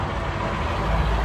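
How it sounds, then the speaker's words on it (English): Road traffic passes outside an open window as a low, steady rumble of engines, with heavier vehicles like trucks or buses droning in the distance for a brief moment. "Got my window open so you can hear the traffic"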